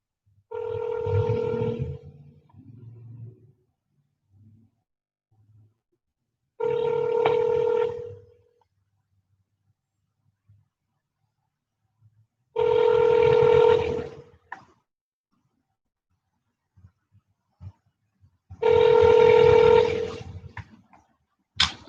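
An outgoing phone call rings repeatedly on the line, four long ring bursts evenly spaced with silent gaps between them, heard alone and fairly loud with no talk.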